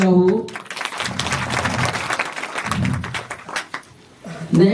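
Audience applause at a Bharia community social meeting in Bilanda, a swell of clapping that rises in two waves, with someone speaking over a microphone at the start and end.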